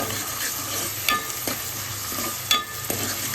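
Chicken pieces coated with ginger paste are stirred in hot oil for a curry, giving a continuous sizzle with a few sharp scrapes and knocks of the spoon against the pan, close and fairly loud, with no talking.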